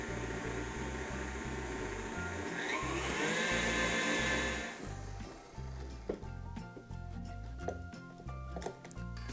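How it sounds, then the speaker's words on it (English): An electric mixer whirs steadily while whisking whipped cream for a no-bake cheesecake, a close, continuous motor drone whose pitch shifts partway through as the mixture thickens, with no voices. "And now I'm going to whisk again."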